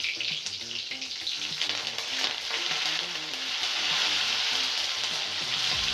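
Chilli pieces and curry leaves fry steadily in hot oil for kanda poha, a constant close sizzle and crackle with no voices throughout.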